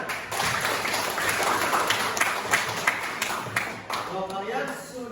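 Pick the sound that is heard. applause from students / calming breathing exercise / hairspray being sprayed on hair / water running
applause from students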